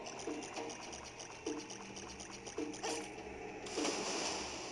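Water streams and trickles steadily through a dungeon in The Legend of Zelda: Ocarina of Time, a continuous game loop with soft repeating chimes and a few louder splashy swells.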